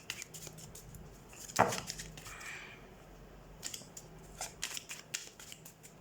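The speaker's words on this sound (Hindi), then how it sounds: "so let's shuffle your cards" Tarot cards are shuffled quietly at close range, with soft riffling and slapping patters, one sharper snap, and light papery rustles scattered throughout.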